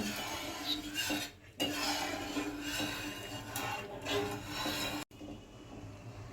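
Soaked rice being stirred into a pot of tomato rice, with steady scraping and rubbing of a spoon against the pot running continuously at close range, broken by brief pauses, and no talking.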